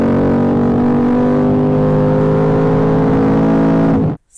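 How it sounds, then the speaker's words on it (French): A Mercedes-AMG C63 S V8 with open exhaust valves revs hard at full load, a loud, sustained, deep harmonic engine roar that holds steady for about four seconds before cutting off abruptly. "Quel bonheur ce V8, pleine charge, ça gueule comme un dragster."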